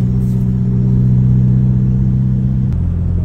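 A Toyota Vios with automatic transmission drives along, a loud steady low engine drone and road rumble heard from inside, dropping in pitch near the end as if shifting gear, no voices.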